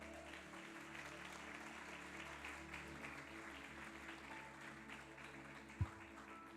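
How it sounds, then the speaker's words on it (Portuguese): A church congregation clapping together during an evangelistic service, a soft, even patter of many hands with one sharp knock near the end. "Glorifica o Senhor com as suas palmas."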